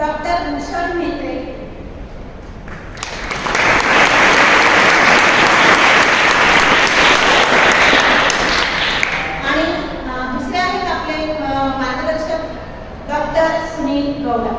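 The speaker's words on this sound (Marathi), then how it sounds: "तर सर्वप्रथम आपण टाळ्या वाजवून त्यांचं स्वागत करूया." An audience at a talk on adolescent physical and mental changes welcomes the doctors with a burst of applause of about six seconds, with speech before and after.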